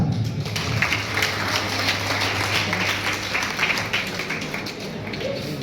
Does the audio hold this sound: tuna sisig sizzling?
no